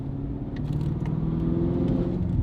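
A deep, resonant BMW G90 M5 exhaust with Valvetronic Designs valves open rumbles steadily and loudly, droning with a throaty, aggressive tone throughout.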